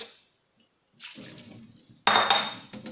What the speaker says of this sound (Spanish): Lo enjuagamos bien con agua de grifo para que no lleve sabor al limón.